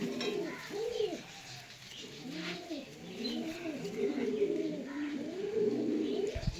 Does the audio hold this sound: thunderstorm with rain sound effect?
no